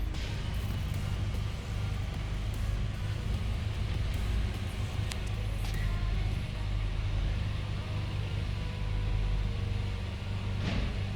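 A 2010-2017 Nissan Sentra engine idles steadily in reverse during a throttle body idle relearn, a continuous low rumble with a faint whine, close and unbroken throughout.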